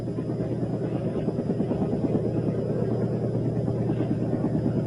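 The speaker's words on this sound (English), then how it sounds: "In Monmouthshire, there was another urgent job for helicopters." A helicopter flies through a snowy winter rescue operation, its steady rotor chop and engine drone loud and continuous throughout, with no voices over it.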